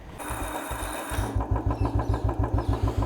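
A 2011 Royal Enfield Electra motorcycle cranks with a starter whine for about a second, then fires and settles into a steady, rhythmic thumping idle close by.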